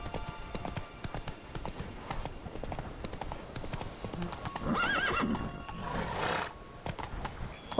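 Clip-clop of Roach, a horse in the video game The Witcher 3, galloping and trotting with steady hoofbeats throughout, a whinny near the middle, a game soundtrack underneath, and a voice briefly speaking over it.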